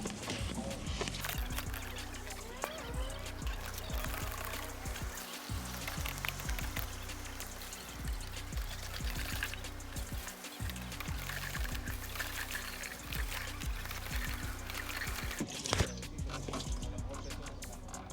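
Fluid is hand-pumped out of a Ford Mustang's tank, with steady rhythmic pump strokes over a continuous gushing, trickling flow of liquid and occasional talking.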